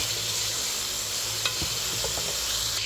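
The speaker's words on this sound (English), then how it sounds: "I am going to add my sesame seeds to it now because I like to toast it a little bit with everything" Sesame seeds toasting in a pan with other ingredients, a steady loud sizzle running throughout with a few scraping stirs of a utensil near the middle.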